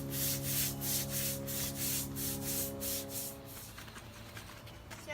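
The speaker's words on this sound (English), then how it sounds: "We found a gigantic scrubber, and it's called a broom." A broom scrubs TSP cleaner into a driveway oil stain left by a leaking 1963 Chevy truck: rapid, steady bristle strokes over a low hum, easing off near the end.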